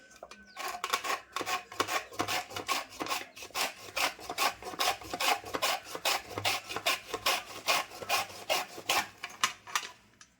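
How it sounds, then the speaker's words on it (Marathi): Raw peeled mangoes being grated on a medium grater, a steady run of quick rasping scrapes in a regular back-and-forth rhythm, close and fairly loud, with no talking. "आता मी किसून घेते किसणीवर"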